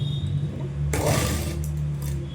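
A sewing machine stitches a square-neck blouse with a brief, close, whirring run that starts quietly and swells into a louder burst partway through.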